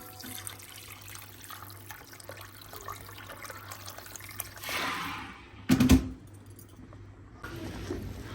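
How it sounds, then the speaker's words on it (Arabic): Water pours from a tap into a cooking pot holding browned chicken for a chicken kabsa, a brief close splash and gush rising midway over quiet kitchen background, with no talk. "راح نضيف له المي ونغطيه على مود يستوي الدجاج"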